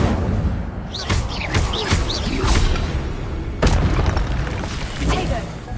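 Incendio fire spells cast in a Hogwarts wizarding video game, a series of booming whooshes and bursts spaced a second or so apart, loud and close, with a voice speaking between and over them.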